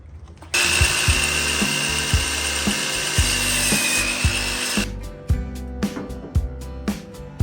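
A power tool cuts wood for a dresser apron. It makes a loud, sustained whine with a rhythmic pulsing, then gives way to a series of sharp, close knocks and clacks.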